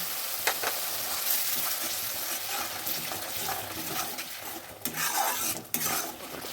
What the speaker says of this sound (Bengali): মশলাটা ভাজা হয়ে এসেছে